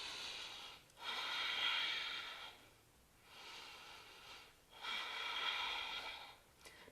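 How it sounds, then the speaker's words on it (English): Deep breathing held in a yoga plank pose, three slow airy breaths in and out through the nose, close and soft with quiet pauses between. "3 deep breaths here."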